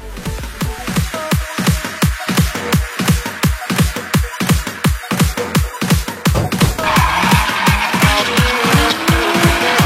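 A Pindad Maung tactical vehicle on a test drive gives off a rapid, loud run of rhythmic pulsing bursts, dozens of repeated whooshes, then a smoother, steadier rush near the end with no voices.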